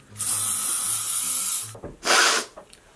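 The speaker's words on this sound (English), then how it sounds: "I'm just gonna give this a little quick spray of some hairspray" Two hissing bursts of L'Oreal Elnett aerosol hairspray, a long spray followed by a shorter one, close and fairly loud.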